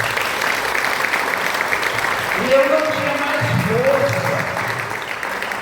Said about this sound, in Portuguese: Vocês podem dar uma salva de palmas para a gente?